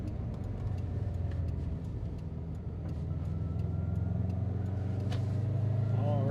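A Subaru STI GD fitted with a 20G turbo, front-mount intercooler and external wastegate pulls on the road, its engine droning and building steadily from inside the cabin, with a turbo whistle rising near the end.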